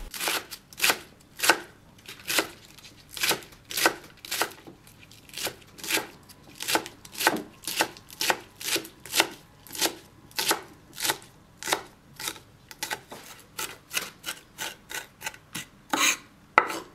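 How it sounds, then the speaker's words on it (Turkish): A knife finely chops green onions and parsley on a board with steady, brisk strokes, dozens of crisp close taps in an even rhythm that quickens toward the end. "Beş tane yeşil soğanı da aynı şekilde ince ince kıydım."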